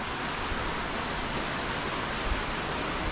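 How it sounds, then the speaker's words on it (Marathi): A waterfall near a Ganpati temple in the Konkan countryside gives a steady, full rushing roar with no breaks, close and constant throughout. "इथे धबधबा खाली आहे"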